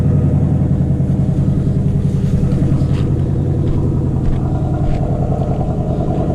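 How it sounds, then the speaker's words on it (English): Low, burbling exhaust of a 2024 Mustang GT idling up close after a cold start, a steady lumpy rumble with a slight rhythmic pulse and no talking. "so that's the exhaust"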